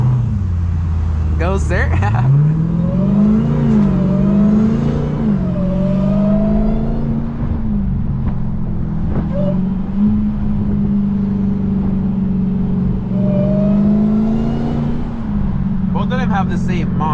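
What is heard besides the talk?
Dodge Durango Hellcat accelerating hard off the line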